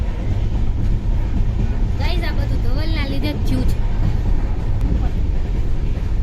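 Steady rumble and clatter inside a moving train running from Gondal to Mumbai, continuous throughout, with people talking over it.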